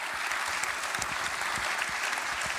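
An audience at a political rally applauds steadily throughout, a dense, even wash of clapping from a large crowd with no voice rising above it.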